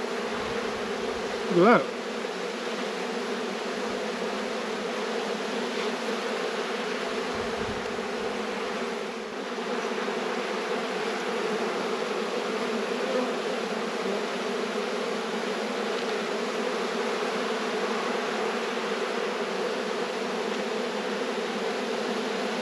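Honeybees hum in a steady, dense drone around an open hive during a late-season inspection before winter, close and continuous throughout, with a brief spoken remark near the start.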